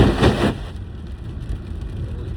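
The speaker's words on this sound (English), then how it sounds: "I also have my windshield wipers going crazy" A car's fan blows loudly in a heavy rainstorm while the windshield wipers run fast, with a burst of water splashing over the car at the start that gives way to a steady rushing roar.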